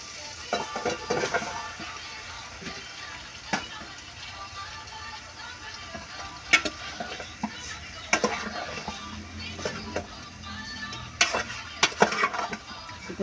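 Chicken fries with tomatoes in a pan for ginataang manok, giving a low, steady sizzle with scattered utensil scrapes and clatters against the pan, close and moderate in level.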